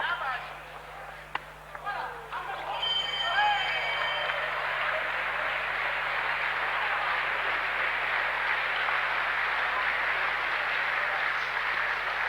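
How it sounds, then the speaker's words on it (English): Applause from a boxing crowd at the end of a round at a world championship bout in Liverpool, a broad, steady wash of clapping and cheering that swells after a few seconds and holds loud to the end, with faint voices early on. "a bit of applause there for the final seconds in the end of that round by the Frenchman"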